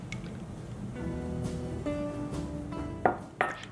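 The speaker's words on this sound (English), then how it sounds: "So I have a little spatula here and I'm scraping out all of that yummy" A small spatula scrapes a wet heavy cream scone mixture out of a bowl, making soft squishy scraping and faint ringing bowl tones, then two sharper knocks near the end.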